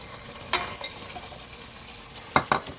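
Paneer cubes for chilli paneer drop into a hot pan over a low sizzle, with a few sharp clinks and scrapes of stirring.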